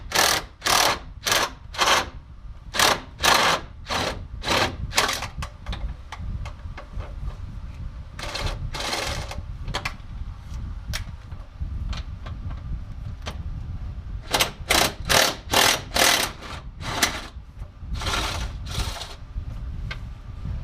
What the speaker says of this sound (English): So I'm just using my extension with a 14mm socket on here to remove these.